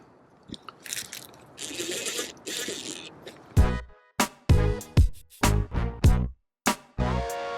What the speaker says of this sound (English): as I'm putting these screws in, I'm putting them in until they just touch the skylight itself